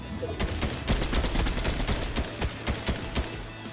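Steady gunfire in a battle royale game fight, many sharp shots cracking in quick irregular succession throughout, close and loud over game noise.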